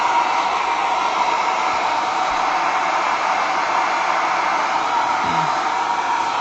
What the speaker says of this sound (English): Hopefully you can hear me over this hairdryer